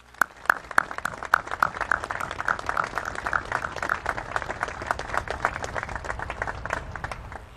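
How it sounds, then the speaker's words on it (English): A crowd applauds American heroes at a POW/MIA Recognition Day ceremony held by the Secretary of Defense and Joint Chiefs of Staff, a steady patter of many hands with a few sharper nearby claps, sustained for several seconds. "please join me in a round of applause for these American heroes"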